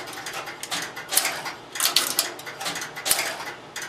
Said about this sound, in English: Upon cut through, the cutoff relay then operates,